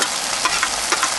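Shallots sizzle in a hot pan while being reheated for a burger, giving a steady bright crackle with a few louder spits and stirring scrapes, close up and with no talk.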